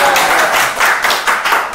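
An audience claps for the champion of the UMB 2017 Kumamoto beatbox qualifier, a loud burst of hand claps rising and falling in quick waves over under two seconds.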